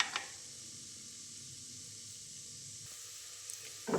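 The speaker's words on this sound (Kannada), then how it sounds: "ಅದೆಲ್ಲ ಫ್ರೈ ಆಗ್ತಿದೆ. ಅದಕ್ಕೇ ಒಂದು 5-6 ಗೋಡಂಬಿನ ತೊಗೊಂಡಿದ್ದೀನಿ" Cashews frying in ghee for ghee rice give a steady, soft sizzling hiss, fairly quiet and close, with a couple of light clicks near the start and end and no talking.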